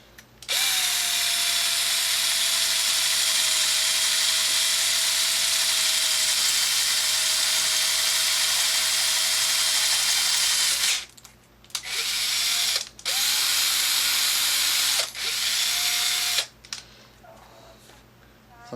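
A power drill with its clutch disabled whirs loudly and steadily for about ten seconds, then runs in several short bursts with brief pauses between them.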